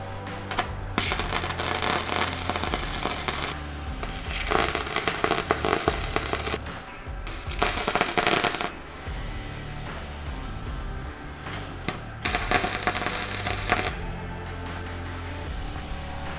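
Tack welding on a Jeep truck build gives dense, steady crackling and sizzling in several bursts of a few seconds each, separated by short pauses, close and fairly loud.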